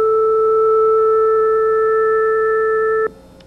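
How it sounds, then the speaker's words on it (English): A Synclavier synthesizer sounds a steady pure sine tone with an added harmonic two octaves above, held evenly for about three seconds and then cut off abruptly, leaving faint background hum. "this would be another sine wave 2 octaves higher than the original"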